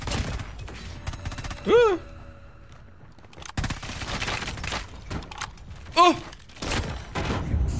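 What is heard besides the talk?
gunfire from a gun in the video game Call of Duty Mobile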